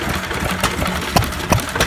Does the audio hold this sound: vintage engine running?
yes